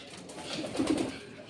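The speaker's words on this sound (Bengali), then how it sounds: "এখানে সব পায়রা" Soft, low pigeon cooing, a single gentle rolling coo swelling in the middle, faint and fairly close.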